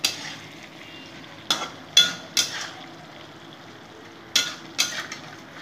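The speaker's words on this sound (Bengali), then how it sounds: "নাড়িয়ে নেব।" Spiny gourd cooked with poppy seed paste is stirred in a pan, with a faint sizzle beneath about six sharp scraping knocks of a spoon against the pan, coming in irregular clusters.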